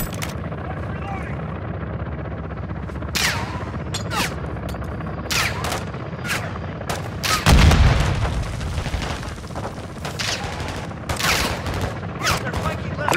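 Helicopter gun run gunfire in Call of Duty Modern Warfare 2 (2022): rapid fusillades and heavy booms burst over a constant rotor drone, with one especially loud blast midway.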